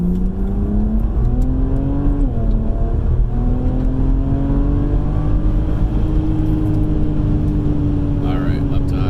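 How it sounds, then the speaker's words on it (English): Car accelerating up to highway speed from inside, a steady engine drone stepping up through gear changes with whirring road noise throughout, as someone talks over it. "All right, up to highway speed."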